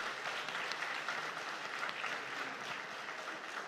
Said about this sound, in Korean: 다시 한번 수고한 우리 다음 세대들 지도하신 지휘자, 반주자 선생님들을 위해 큰 박수로 축하하겠습니다.